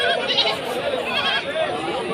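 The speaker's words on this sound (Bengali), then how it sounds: "দেখেন কত সুন্দর ছাগল" Goats bleat at a busy livestock market in Natore, Gopalpur, wavering cries close by mixed with the murmur of people talking nearby.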